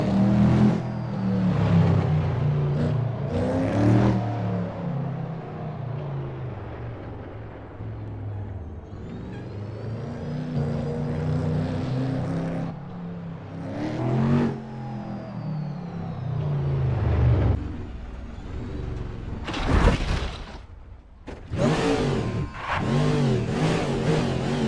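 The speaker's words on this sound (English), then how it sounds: "You guys want to see how the car sounds when I start it up from this camera angle?" Cadillac prototype race car in a racing video game, its engine revving and accelerating with a loud, sustained roar that rises and falls, with sharp bursts near the end.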